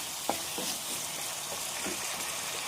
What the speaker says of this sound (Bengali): একটু ভাজা ভাজা করতে হবে টমেটোটাকে